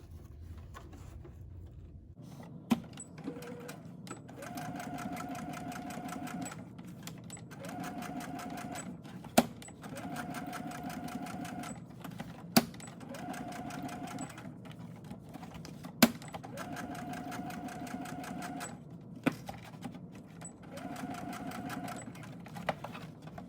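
A sewing machine stitches Velcro onto a children's cloth face mask in several runs of fast, even whirring, separated by short pauses with faint handling clicks between bursts.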